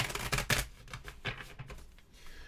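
Board game cards from a Buffy the Vampire Slayer solo game being shuffled, a few quick close riffles and soft slaps in bursts, with no talk.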